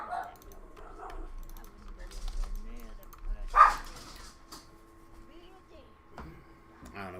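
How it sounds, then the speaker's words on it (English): Dogs barking outside, heard as faint, distant yips with one sharper bark partway through, under a person talking and some light keyboard typing. "The dogs are going crazy."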